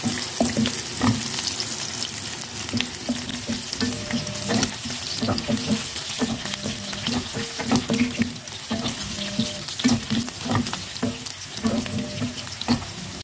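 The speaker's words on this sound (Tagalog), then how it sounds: "pwede na natin ilagay yung bawang" Garlic sizzles in hot oil in a pan for pinakbet, a continuous crackling fry with the clicks and scrapes of stirring throughout, and no talking.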